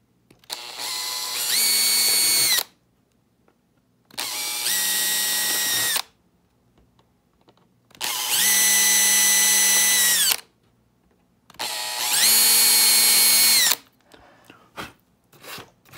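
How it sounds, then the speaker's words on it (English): A power drill whirs in four separate bursts of about two seconds each, spinning up with a high whine and stopping between holes, close by, drilling small holes with a 0.055 bit in an E-flite Viper 90mm model jet. "So then I just drill, like,"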